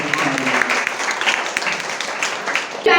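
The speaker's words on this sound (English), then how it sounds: "So, please give a big round of applause for Adam." An audience applauds a talk show guest, a loud burst of clapping from many hands that rises and dips in waves before a sharper, denser flurry near the end.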